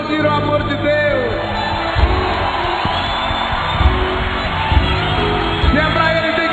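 A church congregation at a sermon by Padre Léo claps and cheers loudly, with yelling and whooping voices rising over a dense crowd roar, and a few stronger swells.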